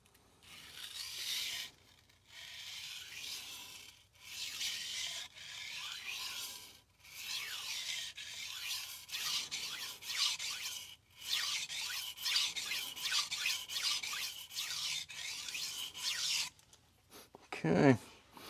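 A knife blade is drawn in long strokes across a 1000 grit sharpening stone, each rasping stroke close and distinct, separated by short pauses, with a soft scrape and clatter at the end.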